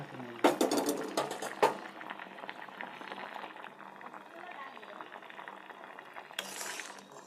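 Fish curry with poppy seed paste simmering in a pan, soft bubbling and faint liquid gurgles, with a few louder clinks and stirring knocks near the start and a short scrape at the end.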